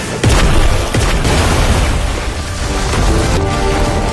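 A magic water ball fired at a tree in an anime, bursting in a loud, dense blast with sharp impacts at the start and a sustained roaring, crackling wash that fills the whole stretch.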